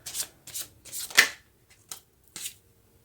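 Tarot cards being shuffled by hand in short, separate bursts of riffling and snapping, about five quick close flurries with brief pauses between them and no talking.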